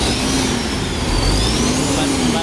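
A MAN diesel engine that had not started for almost two years runs after repair of its solenoid, a loud steady rumble with rising and falling whine as it revs, close by, no talking.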